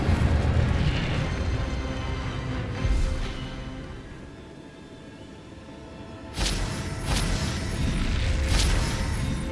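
Incendio fire spell bursting in Hogwarts Legacy, a roaring fiery rush that swells, fades to a low rumble, then erupts again in a sharp whooshing blast with crackling flares.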